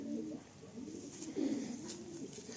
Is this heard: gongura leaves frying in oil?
no